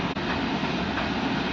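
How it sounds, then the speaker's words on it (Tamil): A freight train rolls past close by, a steady dense rumble of rail cars with a continuous broadband roar and no pauses over the short stretch. "சரக்கு ரயில் தமிழ்ல."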